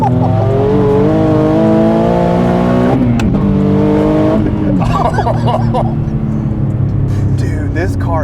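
An Infiniti G37 with a stock motor making over 700 wheel horsepower accelerates hard at wide open throttle, its loud, steady rising engine drone climbing through the gears with a brief shift break, while people talk excitedly over it inside the cabin.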